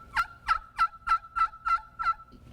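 A turkey call played softly and subtly gives seven evenly spaced yelps in a steady rhythm, close and quiet, with no other sounds around them.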